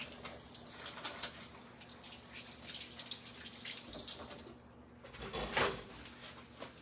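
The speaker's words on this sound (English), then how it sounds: "I'm going to wash my hands really quick" A kitchen tap runs water over hands being washed, a steady broadband splashing rush that surges and fades across several seconds with brief clatters and no talk.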